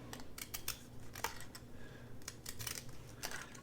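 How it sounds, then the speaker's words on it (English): Small nickel-edged scissors snip through a handled paper gift bag, a quick series of crisp close cuts and rustling clicks, irregular and bunched, with no voice. "I'm going to use these little scissors. These are just some of those little nickel edge scissors."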